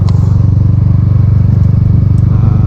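Steady low drone of a van's aftermarket exhaust while driving, with a fast even pulse of engine firing, constant and close, a smooth hum with faint road clatter and no voices.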